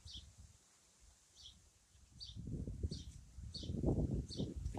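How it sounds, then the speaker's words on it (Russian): Wind gusts buffet the microphone, growing stronger in the second half, while a bird chirps in short, regularly repeated calls in the background. "Видите, какой ветер, кошмар."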